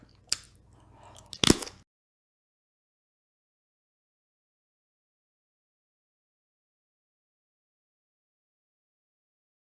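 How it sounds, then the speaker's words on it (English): Crunchy bites of an octopus and king crab seafood boil, with two sharp, close crunches in the first two seconds followed by silence. "Wow, that crunch."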